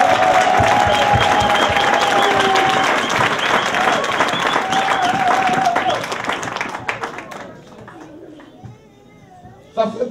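A church congregation in Bonn applauds loudly and continuously, with some cheering mixed in. The clapping fades out over the last few seconds.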